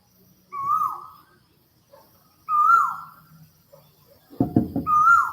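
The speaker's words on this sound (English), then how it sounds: "That's the first bird." A bird in Thailand calls at sunrise with repeated clear, mid-pitched hooting notes, three spaced about two seconds apart, close and distinct against a quiet dawn, with a brief rustling knock near the end.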